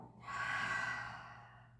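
Deep exhale through the mouth during a floor exercise cool-down, one long breathy rush swelling then fading over about two seconds, close and soft, with no talking.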